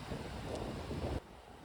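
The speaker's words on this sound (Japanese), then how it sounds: "わー、海だー。" Surf on the Caribbean Sea at a white-sand beach in Cancún, with a steady broadband wash of waves mixed with wind rumble on the microphone, fairly close, then dropping quieter near the end.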